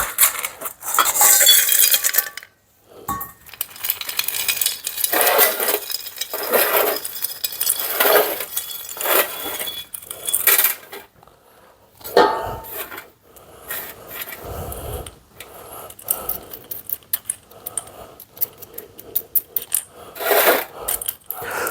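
Soil and gravel are scooped and scattered around a potted Copiapoa tenuissima cactus as its surface is top dressed during repotting, with continuous gritty scraping, rattling and clinking at close range, broken by short pauses.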